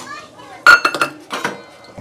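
Metal utensils clink and scrape against a pan while paneer curry is stirred, a few sharp clinks in a short burst, close by.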